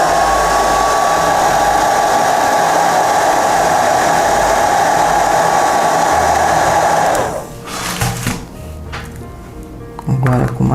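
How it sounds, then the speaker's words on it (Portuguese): A handheld hair dryer blows a steady, loud whirring hum for about seven seconds while drying paint on a craft piece, then switches off, leaving quiet handling noises. "Eu vou secar um pouquinho no secador e dar outra demão."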